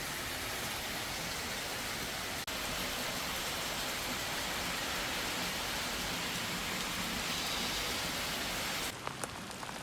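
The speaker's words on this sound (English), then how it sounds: "By evening, the rain had eased up a little." Steady light evening rain falling during flooding in Vietnam, a continuous even hiss of drops on surfaces without a break, with a few faint taps near the end.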